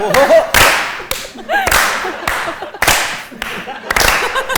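Hand clapping on a comedy talk show, a series of sharp, loud claps in irregular bunches with voices talking between them.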